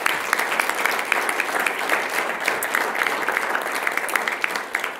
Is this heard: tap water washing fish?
no